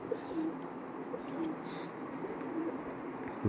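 Pigeons of an original bloodline, kept as a breeding pair, coo softly and repeatedly in the background over a steady low hum, with no talk.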